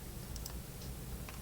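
A few sharp computer keyboard key clicks pressing Ctrl+C to copy, sparse and close, over a low steady room hum with no talk.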